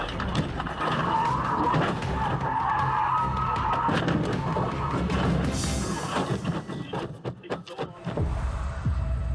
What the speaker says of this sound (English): The semi swerves to the left, aggressively blocking him from passing, finally forcing Andre off the road and striking his car from behind.